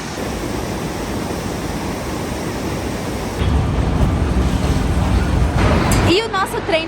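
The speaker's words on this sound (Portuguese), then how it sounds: "Aqui embaixo tem uma cachoeira." Waterfall at Machu Picchu Pueblo (Aguas Calientes), Peru, heard as a constant loud rushing roar of falling water that grows louder partway through, with brief sounds near the end.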